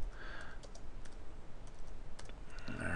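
Keys tapped on a computer keyboard while entering a subject line in a sales calendar program, a short run of soft clicks over steady background hiss, with no talking.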